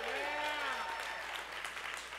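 Congregation in a church clapping together at a pastor's invitation, a dense sustained wash of applause at moderate level with a few voices speaking over it.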